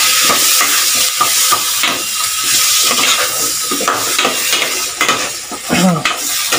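Chicken pochero being stirred in a pot, a loud, continuous scraping and sizzling bubble with clattering utensil strokes against the pot, close up and without talk.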